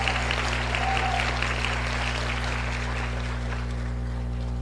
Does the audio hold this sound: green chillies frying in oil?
no